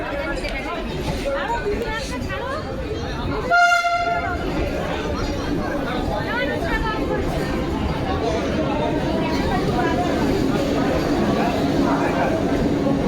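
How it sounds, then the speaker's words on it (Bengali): A Vande Bharat Express train arrives at a busy station, its steady rumble running throughout with a short horn blast near the start, while people chatter in the background. "এখন আবার বন্দে ভারত এক্সপ্রেস। আমাদের ট্রেন এসে গেছে।"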